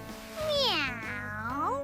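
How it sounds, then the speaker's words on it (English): Morgana, the cat character in Persona 5 Strikers, gives a long, drawn-out meow with a rising and falling pitch, close and clear, with a soft second inflection near the end and no talking over it. "Mona's practically purring."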